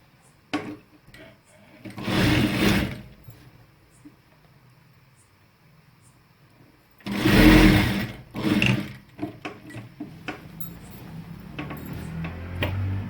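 A sewing machine runs in two loud bursts while stitching a simple salwar with a pocket, with quieter handling noise and mechanical clicks between the bursts and no speech.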